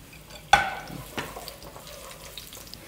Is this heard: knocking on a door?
no